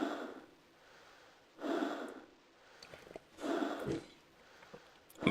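Heavy breathing from the 2006 adventure game Trilby's Notes, three drawn-out rasping breaths in a slow steady rhythm, close and fairly loud, with small clicks between them.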